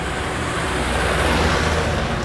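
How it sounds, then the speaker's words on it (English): A cotton-laden truck rushes past on a road near Mary, Turkmenistan, a loud, close, broad roar of engine and wind that swells slightly in the middle and fills the whole moment. "Oh, that was a cotton truck."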